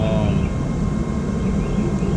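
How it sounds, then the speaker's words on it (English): An airplane flies overhead during a welding session, making a steady, broad roar that stays fairly loud and continuous throughout. "Sorry for the plane noise."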